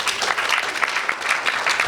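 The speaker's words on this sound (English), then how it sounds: "Again, another round of applause." Audience applause at a board game festival feedback session, a dense continuous patter of many hands clapping at moderate loudness.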